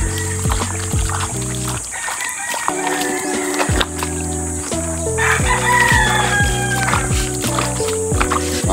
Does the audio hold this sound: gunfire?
no